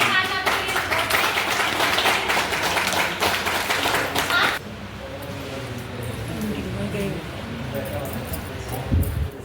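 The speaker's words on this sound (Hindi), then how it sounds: "आज की मीटिंग का समापन आप सबकी जोरदार तालियों से यहीं पे किया जाता है।" An audience at a company meeting claps loudly and steadily for a few seconds, then the applause stops abruptly and people talk in the room.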